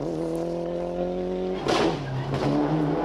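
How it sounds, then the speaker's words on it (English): A GT4 rally car in the 1995 Ulster Rally passes close by, its engine revving steadily and rising, then dipping through a gear change before pulling away loudly with no voices. "And just 3 seconds behind him comes the Ulster Rally novice Liam O'Callaghan, who's having an excellent run in the SO Ultron GT4."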